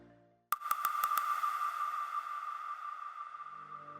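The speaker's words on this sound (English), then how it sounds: "I also have more hall percussions." A hall percussion sample in electronic music production: a sharp struck hit at the start, quickly repeated in a short stutter of four or five echoes, then a bright sustained ringing tone that slowly decays in a reverberant space.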